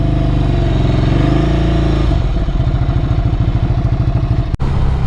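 A 2024 Ducati Scrambler motorcycle rides along narrow back roads, its engine loud and close, revving high for a couple of seconds, then settling into a steady pulsing throb, with a brief sharp knock near the end.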